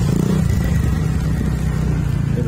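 A TVS Ntorq scooter engine revs and clatters up close on an off-road riverside trail, a steady loud low drone holding for about two and a half seconds with no talk over it.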